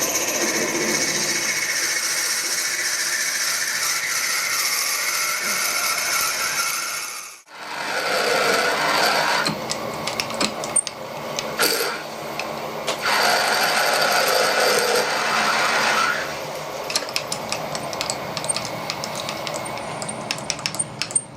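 Drill biting into a hole in brass on a lathe setup in a home machine shop: a steady mechanical whir of the turning machine, then a brief stop and restart, with rougher grinding bursts and scattered clicks as the cut proceeds.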